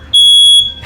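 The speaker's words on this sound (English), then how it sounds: "We have a very sensitive alarm, and that's how you know we're cooking." A very sensitive smoke alarm sets off by cooking sounds one loud, piercing electronic tone that lasts about half a second, then cuts off.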